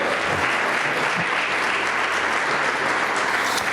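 A crowd claps steadily at a church service, a dense wash of many hands applauding at once, loud and sustained throughout without pause.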